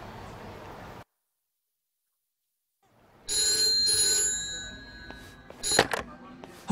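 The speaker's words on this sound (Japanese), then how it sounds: "俺宛に電話がかかってきた。" A telephone rings in the video game Yakuza: Like a Dragon. A second of murmur drops to silence, then a bright, steady electronic ring rises and is joined by a few sharp clicks and clatters.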